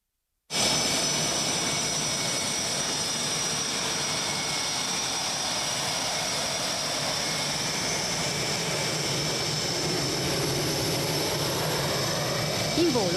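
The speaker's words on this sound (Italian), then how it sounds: "In volo gli Eurofighter e gli F-35 dell'Aeronautica Militare Italiana, assieme agli F-35 della Svizzera e gli F-16 americani" Roar of military jets, Eurofighters, F-35s and F-16s of Italian, Swiss and US air forces at an air base exercise, a loud steady broadband rush with a high whine held throughout, no talk.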